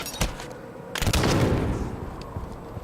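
A pop frag grenade blast in Halo 5, two sharp bursts followed by a rolling, rumbling explosion that decays over a couple of seconds, fairly close and moderately loud.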